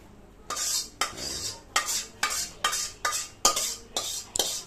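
A spoon scraping and clinking around a metal bowl as puffed rice is mixed with spices, about nine sharp rhythmic strokes evenly spaced, close and clear with no talk.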